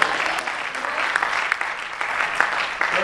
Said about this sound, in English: Why don't we give the Lord a hand clap of praise?